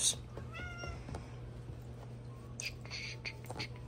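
A cat meows a few times near an aquarium setup, short rising calls standing out over a steady low hum of filtration equipment, with a few faint clicks and rustles.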